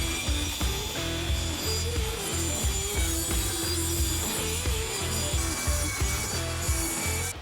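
A saw blade set in a jig trims wooden window trim, producing a continuous rough rasping cut with rapid regular pulses, loud and close throughout with no talk.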